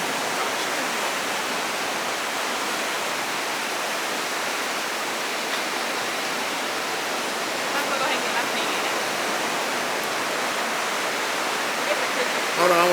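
Pacific Ocean surf breaking on the rocky shore at Pismo Beach makes a steady, broad roaring wash that stays loud and even throughout, with no distinct individual crashes.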